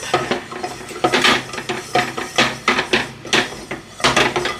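A spoon stirring ingredients in a pan for a roux with pork belly, potatoes, onions and apples, giving a run of rhythmic scraping and knocking strokes, close and fairly loud with no talk.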